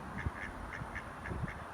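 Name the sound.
ducks quacking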